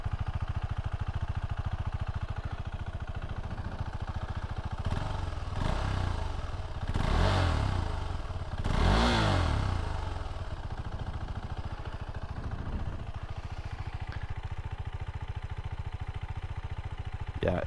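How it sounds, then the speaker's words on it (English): A 2023 KTM 390 Adventure motorcycle idles with a steady low exhaust rumble, swelling in two brief revs in the middle before settling back to idle, heard close with no talking. "Just to give you an idea of the exhaust here."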